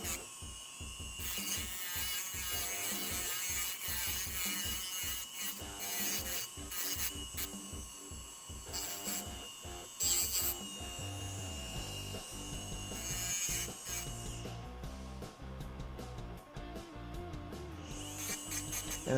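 A small grinder smooths the joints of a dental retainer with rapid, rasping, ratchet-like grinding in uneven bursts, close and fairly quiet, and no voices.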